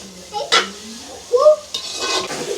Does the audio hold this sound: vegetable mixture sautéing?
yes